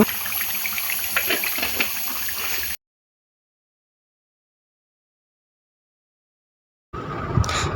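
Fried paneer, potato and soybean chunks tipped into simmering curry gravy, a wet pouring splash for a few seconds, then a sudden dead silence before the splashing and bubbling resume briefly.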